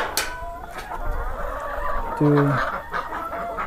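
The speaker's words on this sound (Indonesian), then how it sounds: "Nah ini kandang ayam teman-teman." Chickens cluck in a farm coop on a livestock farm run as a tourist spot, with several birds calling close by while a person speaks briefly.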